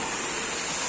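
Loud, steady rushing of water pouring out of a drainage pipe during a flood in Sterlitamak, a dense broadband roar close by, continuous and unbroken.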